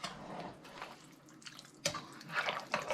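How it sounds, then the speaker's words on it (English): Water is poured into a pot of hamburger, tomato and vegetable soup, giving uneven splashing and dripping bursts that swell and fade, with a stronger gush near the end. "More water's going in, folks."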